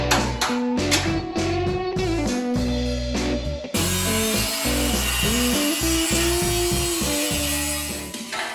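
Steel frame rail of a 1956 Chevy gasser being cut with a power tool in a garage, loud grinding whine that rises and falls in short bursts, then a steadier harsh cut.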